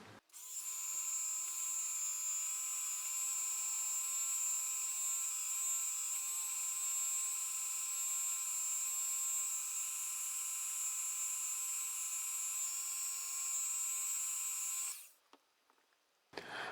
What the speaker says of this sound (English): You're really not trying to remove any material with a Dremel, so nice light pressure